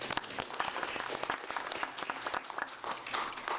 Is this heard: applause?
yes